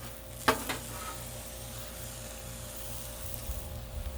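Smashburgers sizzle on a Blackstone griddle, a steady close hiss with a sharp scrape or clatter near the start and a low mechanical hum beneath, no voices.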